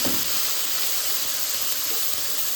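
Sambal sizzles steadily in leftover oil from frying anchovies, giving a close, continuous hiss and crackle with no talking.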